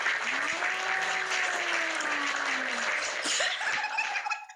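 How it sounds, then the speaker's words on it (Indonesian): Steady applause from an audience fills the clip, continuous and fairly close, fading out at the end. "Tepuk tangan dulu buat mereka berdua."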